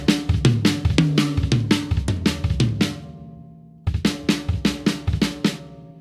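Drum set played in a single drag tap rhythm with a double bass drum pedal, a steady run of punchy kick and cymbal hits in a repeating grouped pattern, one brief pause, then the pattern resumes, with no talking.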